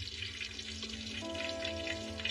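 Breadcrumb-coated vegetables sizzle and crackle steadily in a hot pan, a soft continuous hiss close by with a faint low hum beneath.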